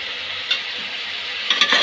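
Tomatoes and coriander frying and being stirred in a pan for chicken biryani: a steady close sizzle with a couple of louder scraping stirs, no talking.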